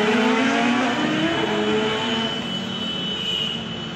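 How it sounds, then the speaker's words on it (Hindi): Superbikes race along a road in Bhopal, their engines making a loud, continuous roar with rising and falling whine that fills the whole stretch without any voices. "तो भाई ये सुपर बाइक देखो रेस चल रही है"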